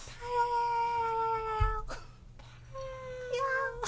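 A cat meows in a long, drawn-out, tonal call, followed after a short pause by a second meow, fairly clear and near rather than distant, with a faint voice briefly underneath.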